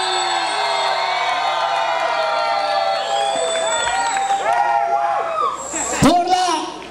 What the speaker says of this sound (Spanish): con el aplauso y la bulla de todos ustedes